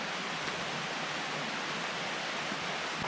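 A loud river rushes past a campground at Trout Creek, a dense, unbroken roar of water that fills the space evenly and drowns out everything else.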